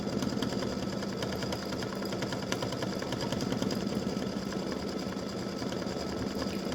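An embroidery machine stitches an edge-to-edge butterflies and hibiscus design, giving a steady, fast, close mechanical whir with rapid needle chatter that runs evenly throughout with no talking.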